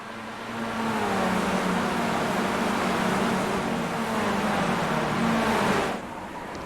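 Race car engine from the Skippy open-wheel class in iRacing, racing at Virginia, droning at steady high revs from an outside camera, a continuous loud buzzing whine that briefly shifts pitch and dips near the end, with no talk.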